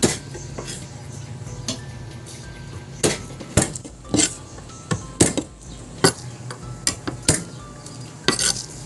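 Garlic cloves pounded flat in a home kitchen while fermented-fish vegetables cook, about a dozen sharp, irregular knocks ringing out over a quiet background.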